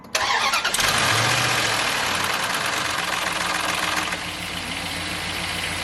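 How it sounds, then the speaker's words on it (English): A car engine cranks and catches, roars briefly at high revs with a light chattering of valve lifters, then settles into a steady idle, close and loud. "you heard that little bit of chattering right there when I first started the engine"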